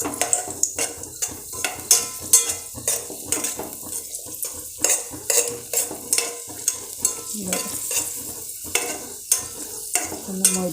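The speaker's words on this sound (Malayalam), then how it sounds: "നമുക്ക് ആദ്യം എണ്ണയിലേക്ക് അണ്ടിപ്പരിപ്പ് മുകളിൽ ഇട്ട് കൊടുക്കും" Cashew nuts fry in hot oil, giving a steady sizzle broken by regular scraping and clinking of a metal spoon against the pan, close and rhythmic.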